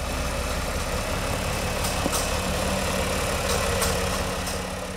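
A 1970 John Deere 4020 tractor engine idles steadily nearby, a dense low rumble with rhythmic knocking pulses and a few faint clicks over the top.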